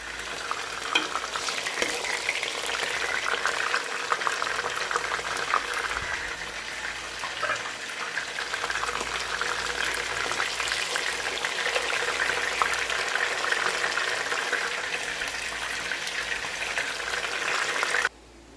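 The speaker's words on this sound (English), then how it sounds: "Right now we're going to go ahead and saute all of these together" Cooked pork and aromatics sauteing in oil in a pot, a loud continuous sizzle with stirring scrapes that runs steadily for about eighteen seconds, then cuts off abruptly.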